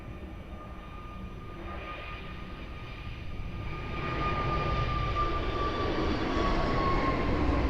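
Jet airliner taking off from runway 02 at Lisbon Airport, heard from a distance as a broad engine roar that swells noticeably partway through and then holds loud and steady, with a faint tonal whine above it.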